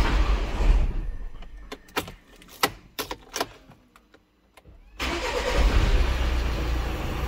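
Skoda engine after fuel injector and valve cover replacement and fuel system bleeding: a string of clicks and cranking pulses, then the engine catches and settles into a loud, steady idle close by.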